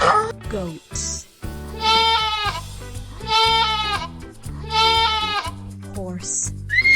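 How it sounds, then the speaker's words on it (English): A goat bleats three times in long, shaky, wavering calls, loud and close, with music playing underneath. "goats"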